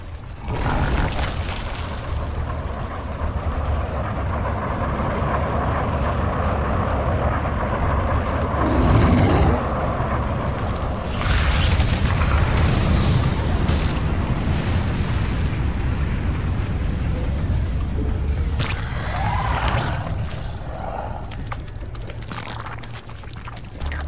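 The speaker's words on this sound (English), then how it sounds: "Terrans have launched a missile." A Terran missile launch and detonation in StarCraft II rumbles as a long, heavy roar, with swelling booms and crackling bursts layered over a constant low drone.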